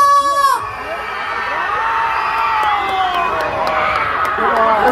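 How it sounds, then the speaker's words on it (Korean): Middle school first-graders at an outdoor concert shout and whoop together as a crowd, one sustained loud roar of young voices that follows a brief amplified call from a host. "우리 1학년의 함성 한번 들어보겠습니다. 다 같이 소리 질러!"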